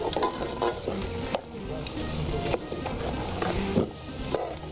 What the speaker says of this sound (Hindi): मसाले को थोड़ा भूनना पड़ेगा